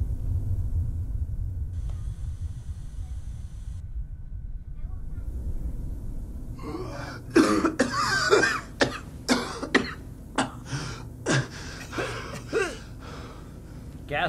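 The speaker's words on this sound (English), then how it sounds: "Gasping and coughing." Gasping and coughing from a person in a VR game's vault, starting after a low rumbling stretch, with several short sharp bursts spaced in an uneven rhythm, close and fairly loud.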